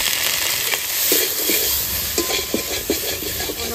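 Curry with spices sizzling and being stirred in a frying pan, a steady loud hiss of hot oil broken by short scraping stirs of a spatula against the pan.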